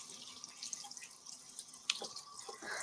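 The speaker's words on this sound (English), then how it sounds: "I'm going to put my wet paintbrush in the water" A wet paintbrush dipped and swished in a container of water at a craft table gives faint, brief drips and small splashes against quiet room background.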